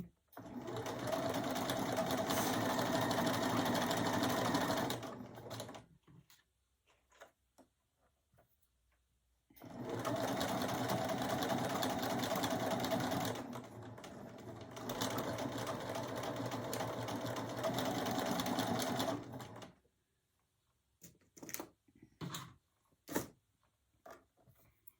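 A sewing machine stitches a hem in two long, continuous runs of rapid mechanical whirring separated by a short pause, followed by scattered light clicks and taps.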